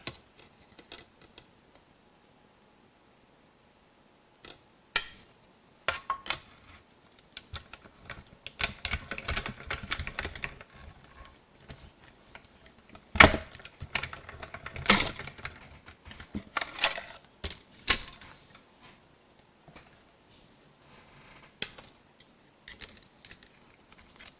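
A die-cutting machine presses the smallest tag die through paper, giving close, crisp clicks and crunches in irregular bursts with short pauses between, with no talking.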